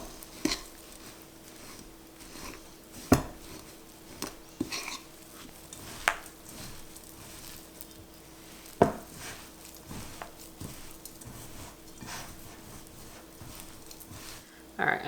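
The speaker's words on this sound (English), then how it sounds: "The hardest part is really just mixing in all of the peanut butter." Peanut butter being stirred into a homemade school snack mixture, with soft scraping and occasional clinks of a spoon against a bowl, fairly quiet and irregular, no talking.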